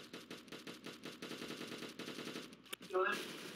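Rapid automatic gunfire from a weapon in the Roblox-style shooter Arsenal, bursts rattling continuously for a few seconds before a brief pause and a louder final blast, with some voice mixed in.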